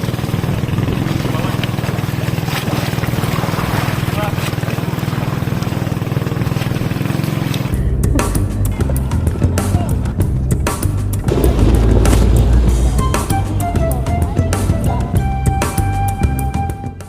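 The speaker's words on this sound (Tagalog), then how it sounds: "Habang nagbibiyahe na ang bangka patungo sa bayan ng Yabong" Motorized boat travelling on the sea toward a town, a continuous engine drone with water rush that changes in character partway through, with people talking over it.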